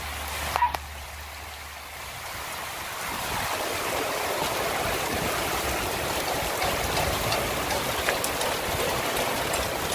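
Rain falls steadily as a dense, even hiss of drops on surfaces, starting softer after a faint knock and building to a constant wash that continues to the end.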